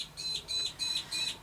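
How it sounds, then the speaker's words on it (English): Small birds chirp outdoors in four quick bursts of bright, high tweets, fairly close and alone, with short pauses between calls. "Birds are having a bit of a word."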